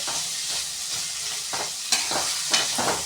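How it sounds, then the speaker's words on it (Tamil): Green chillies sauté in a hot pan for Maggi vegetable noodles, giving a steady, close frying hiss with several scraping stirs of a spatula. "போட்டுட்டு நல்லா நம்ம வதக்கிக்கலாம்."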